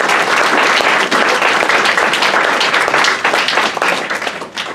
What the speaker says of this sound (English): Could you please give a big round of applause to Paul Dorpat and Jean Sherrard?